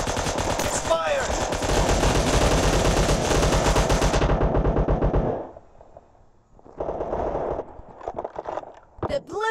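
Gunfire in the battle royale game PUBG, a loud, dense run of rapid automatic shots for about four seconds, then quieter intermittent bursts, with talk mixed in.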